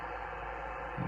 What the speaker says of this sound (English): A little bit of static there.